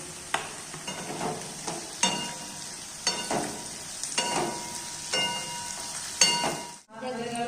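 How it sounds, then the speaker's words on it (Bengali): Cashews and raisins frying in a pan after vegetables for fried rice give a continuous close sizzle, punctuated by repeated scraping stirs of a spoon roughly every second. "এইবারে আমরা কাজু কিশমিশটা দিয়ে দিচ্ছি ভাজার জন্য"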